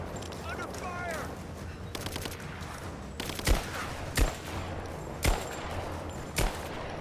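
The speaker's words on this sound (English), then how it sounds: "Under fire!" Gunfire in the video game Rise of the Tomb Raider: a chaotic exchange of shots, with several sharp, loud bangs standing out at irregular intervals over continuous battle noise, and brief shouted voices mixed in early on.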